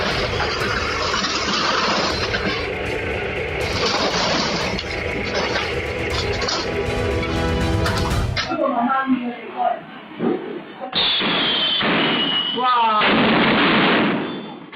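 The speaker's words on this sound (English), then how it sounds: "unexpected explosions like this can become dangerous in a split second" Fireworks explode near a scene with heavy vehicles, a dangerous close blast: loud booming blasts and crackling bursts in a dense barrage, then a few sharp separate pops, and a final stretch of whistling, crackling noise.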